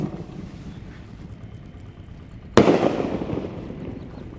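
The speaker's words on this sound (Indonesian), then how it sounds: "Selanjutnya di sini ada mercon elang mas. Kita lihat reaksinya." An elang firecracker goes off with a single sharp, loud bang midway, its crackling noise trailing away over a faint windy outdoor background.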